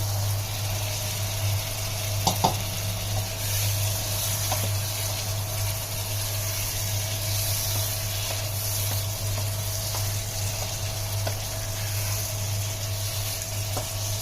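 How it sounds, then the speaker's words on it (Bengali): Fried potatoes and pointed gourd tumble into a pan of cooked-down spice paste for a hilsa fish curry, setting off a steady, close sizzle of frying with a couple of brief clinks near the start and no voices. "এখন আমি ভেজে রাখা আলু পটল দিয়ে দিচ্ছি"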